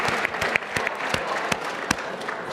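A room full of people at a youth town hall applauding, a steady patter of many hands clapping with a few sharper individual claps standing out.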